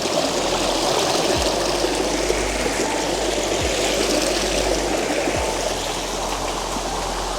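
A stream on the Panhala to Pavankhind trek in Maharashtra flows in a continuous, dense rush of water, steady and close throughout, with no voices.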